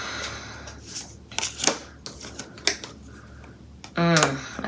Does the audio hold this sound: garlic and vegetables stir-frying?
no